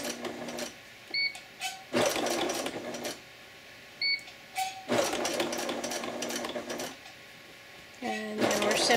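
A sewing machine back stitches along the stressed edge of a bib apron in several short, loud whirring bursts, separated by pauses and small mechanical clicks, with a brief longer run near the end.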